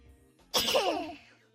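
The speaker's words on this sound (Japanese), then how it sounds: "特徴的で可愛いくしゃみだな" A single short, high-pitched sneeze, close and fairly quiet, with a brief trailing tail and no talking.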